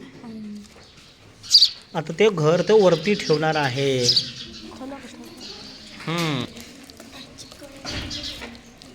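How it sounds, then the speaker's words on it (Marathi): Sparrows chirp busily and noisily, close by, around a two-storey sparrow house built at a school, while a person speaks over and between the calls. "चिमना चिमणी इथं मात्र जोरात गोंधळ करायला लागलेले आहेत"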